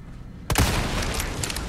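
A single sharp, loud sniper rifle shot in the video game Resident Evil 4 Remake cracks out, followed by a booming echo and lingering rumble.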